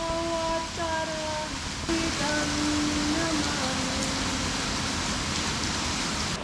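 Water flows at a five-star pool villa in Ubud, Bali, during a yoga class, making a steady close hiss. Faint tonal calls sound above it at the start.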